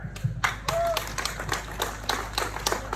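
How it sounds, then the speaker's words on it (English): Scattered crowd clapping for Father Dave at an outdoor freedom rally outside the Russian consulate in Sydney, distinct individual claps spread unevenly over a few seconds, fairly thin and moderate, with a faint voice briefly heard. "A round of applause to Father Dave."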